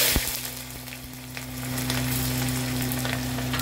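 Thinly sliced onion fries in a pan for a whole-spice mutton stew, a continuous close sizzle with a sharp crackle at the start, the hiss swelling and staying steady beneath a low hum.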